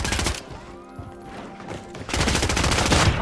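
Bursts of heavy video game gunfire, a loud volley at the start, a quieter lull with ringing echoes, then another dense barrage to the end.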